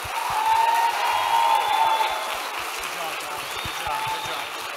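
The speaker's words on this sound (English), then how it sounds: "One more round of applause for them." An audience at a high school Christmas concert applauds a percussion ensemble, a moderate wash of clapping with light cheering, heard under someone talking over it.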